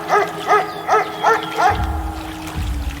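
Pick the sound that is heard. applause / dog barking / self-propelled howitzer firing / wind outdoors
dog barking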